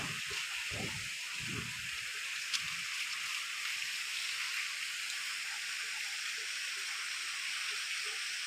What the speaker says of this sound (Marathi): छोट्या नदीचा ओघ आहे.